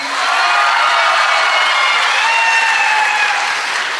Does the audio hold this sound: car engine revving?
no